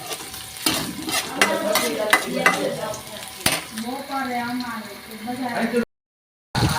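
Garlic tossed into a hot pan with ginger sizzles and crackles while being stirred, with scraping strokes over a steady frying hiss and a voice talking throughout before a brief cut to silence.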